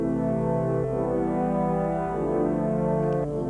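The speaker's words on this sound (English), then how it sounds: "I'm just going to play the chords first, and then I'm going to unmute this so you can hear it." Sustained synth chords from a Korg synthesizer sequenced by an OXI One, heard alone as smooth held harmonies shifting through a few chord changes over several seconds.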